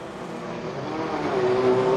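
Race cars circling a dirt speedway oval in a National 4's final at Gympie, a steady loud engine roar building slightly toward the end as a car nears.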